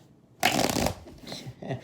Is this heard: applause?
no